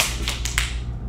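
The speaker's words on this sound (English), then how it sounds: "then hands go clap up high" Three sharp hand claps a child makes raising the hands up high during a sumo-themed exercise class, evenly spaced over a steady background hum.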